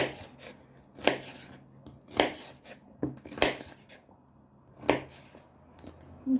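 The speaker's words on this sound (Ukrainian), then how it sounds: "Перець буду нарізати такими крупненькими скибачками" A knife slicing a bell pepper into large pieces on a cutting board: a handful of irregular crisp cuts and taps, spaced about a second apart, close and fairly quiet with soft background rustle between strokes.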